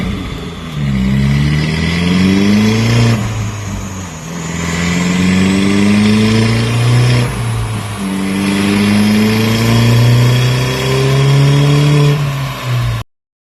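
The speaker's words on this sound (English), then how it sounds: "We actually got it dynoed." A turbocharged VW GTI runs on a dyno, its engine climbing loudly through the gears in repeated rising pulls, each broken by a brief dip at the shift, steady and close with no talking.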